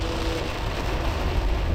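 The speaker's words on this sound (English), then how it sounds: "Well, it's raining, alright?" Steady rain pours down during a soaked outdoor tour near Roermond, a dense, even hiss that fills the whole short stretch with no voices.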